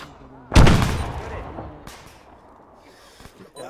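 A single sharp, loud gunshot sounds in a military campaign video game and echoes into a decaying tail, followed by a fainter second crack and low background noise.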